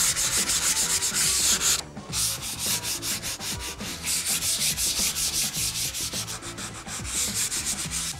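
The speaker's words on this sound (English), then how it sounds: "So you just sand it and make sure that you don't have rough edges" Continuous rhythmic sanding of a wall ahead of primer, a steady close rubbing rasp with repeated strokes and no voices.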